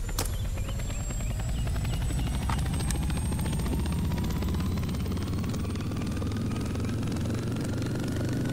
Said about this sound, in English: That's also a helicopter.